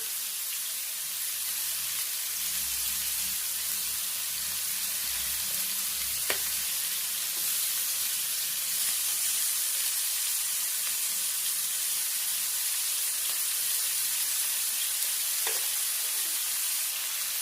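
Chicken pieces fry in oil in a large pan over high flame, a constant, even sizzling hiss that barely changes, with a couple of faint clicks and no talking.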